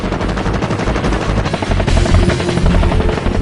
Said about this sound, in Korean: 지상전 핵심 전력이자 육군 항공의 꽃 공격 헬기 코브라